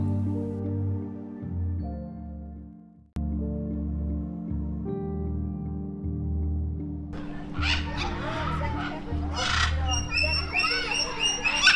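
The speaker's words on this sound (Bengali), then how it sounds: "প্রথমে আছে এই সুন্দর নীল আর হলুদ ম্যাকাও।" A blue-and-yellow macaw at a mini zoo in Harinalaya Eco Park, New Town, gives harsh, repeated squawks in the latter half, over steady background music that plays throughout.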